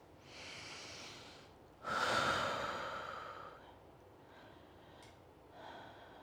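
Slow, audible breaths drawn while holding a seated butterfly hip stretch with a pec stretch: a soft inhale, then a stronger, longer exhale, and a faint breath near the end, close and quiet with no talking.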